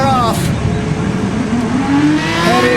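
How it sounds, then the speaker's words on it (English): Race car engines revving together at the start of a Gran Turismo Sport race at Goodwood, a loud dense roar with rising and falling engine whines, overlaid by a commentator talking. "Engines are revving."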